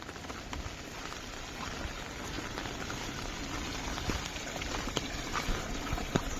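A small stream flows through a field in the Konkan countryside during rice-planting season, giving a steady, close rush of water with scattered splashy ticks and no talk.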